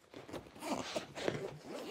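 A zip on a DD Bergen rucksack is run open and then closed, giving two short, close, rasping pulls in a quiet room.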